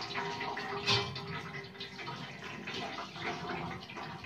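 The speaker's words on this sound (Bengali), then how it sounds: "আর এই ঠান্ডা জল দিয়ে আমি ভালো করে ধুয়ে নেব," Cold tap water runs and splashes steadily while homemade rasgulla chhena is rinsed, a close, continuous wash of flowing liquid with small bursts of splashing and no talking.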